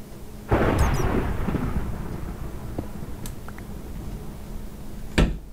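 A sudden loud thunder crack from a lightning strike in Tekkit Lite, a modded Minecraft game, rolls into a long fading rumble, and a second sharp crack breaks in near the end.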